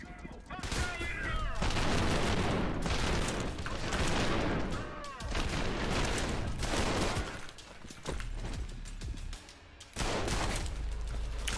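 Video game gunfire from shotguns and pistols crackles in dense, loud bursts with short breaks between volleys, up close and continuous over most of the stretch.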